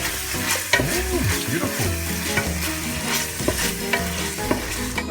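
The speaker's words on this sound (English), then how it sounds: "I'm going to add them through the mix, and I'm just going to stir that in quite nicely" Caramelised vegetables stirred into spaghetti in a frying pan with olive oil, a steady sizzle with repeated scraping and clattering stirring strokes, close and fairly loud, while a voice speaks briefly.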